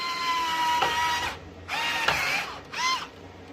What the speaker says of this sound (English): Make sure it's nice aligned, and then I'm screwing it in.